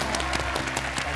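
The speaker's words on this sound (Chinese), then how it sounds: "热烈掌声欢玉明" Applause from a studio audience on a family cooking competition show, a brief burst of dense, steady clapping from many hands, loud and close.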